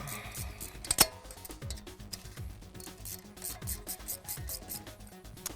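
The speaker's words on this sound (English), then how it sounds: "first we'll take the caliper off" Tools scraping and clicking against a Jeep Wrangler JKU brake caliper as it is unbolted, with irregular close rubbing and ticking and one sharp metallic knock.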